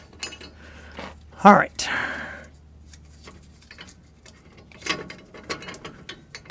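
Nut spun on by hand onto the threads of a U-bolt during rear axle work on a GM OBS Chevy or GMC truck, with quiet metallic ticks and rattles under a brief spoken remark and a steady low hum.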